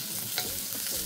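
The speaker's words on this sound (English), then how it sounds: "we've had the nice hot wok and we spread the prawns out" Prawns stir-frying in a hot wok, a steady broadband sizzle with soft scraping and stirring movements, close and continuous for a moment with no talk.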